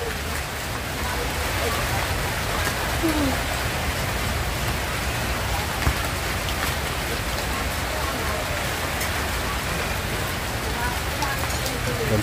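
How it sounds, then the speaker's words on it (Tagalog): Steady rain falls throughout, a dense even hiss of drops on surfaces with no pauses. "Tigil talagang ulan."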